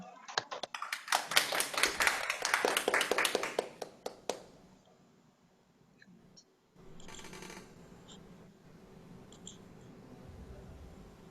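An audience at an indoor lecture claps to welcome a speaker, a burst of many hands that rises, peaks, then thins out into scattered claps, followed by quieter room noise.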